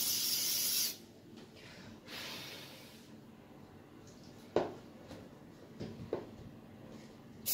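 Glue activator aerosol sprayed while fitting tile trim, a sharp hissing burst at the start followed by a second shorter spray, then quiet handling knocks and taps.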